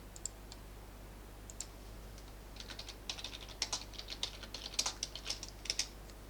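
Keys tapping on a computer keyboard, quiet and close, starting with a few scattered clicks, then quickening into denser bursts of typing before tapering off.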